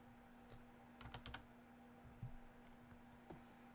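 Quiet keys tapped on a computer keyboard while entering cheats in The Sims 4, in a few short bursts of clicks with pauses between them, faint and close, with a steady hum underneath.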